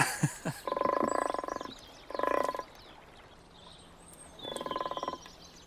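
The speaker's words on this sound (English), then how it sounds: "one thing I've never really appreciated with common frogs before is that low grumble that the males make" Low grumbling croaks from male common frogs come in three rhythmic bursts with quiet gaps between, faint and close.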